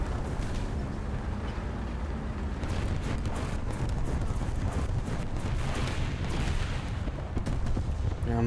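Artillery and gunfire rumble through a War Thunder battle: dense, continuous booms and bursts of shots, loud and sustained with no break, over the low roar of the game.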